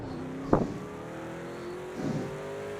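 A Panos car drifting in a racing video game: a steady engine drone with a sharp squeal-like burst early on and a second, softer surge of engine noise shortly after, fairly quiet overall.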